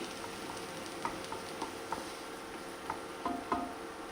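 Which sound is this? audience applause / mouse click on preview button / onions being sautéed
onions being sautéed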